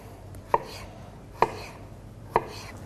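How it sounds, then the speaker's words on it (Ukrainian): Three sharp knife chops cubing a cucumber on a cutting board, evenly spaced about a second apart, close and distinct against a quiet background. "Кубиками нарізаємо огірок"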